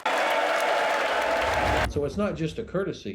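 Loud applause in the US Congress breaks up a speaker's speech, a dense burst of clapping that cuts off abruptly into someone talking.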